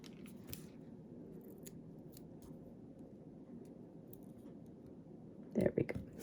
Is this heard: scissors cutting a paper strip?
yes